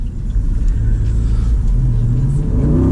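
An American car with over 500 horsepower accelerates hard, its engine a loud, close, heavy rumble that climbs steadily in pitch as the revs build.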